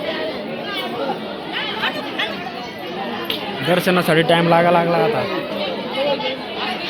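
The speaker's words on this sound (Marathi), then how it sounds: "तर गर्दी खूप वाढली इथं" A crowd of pilgrims packed at Jejuri temple during the yatra fills the air with constant overlapping chatter, while a nearby voice talks clearly above the hubbub.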